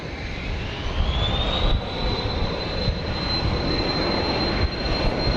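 A misty evening departure of an Embraer Phenom 300 business jet at Dallas Love Field: a steady, loud jet-engine roar with a rising high whine that levels off, holding constant throughout with no voices.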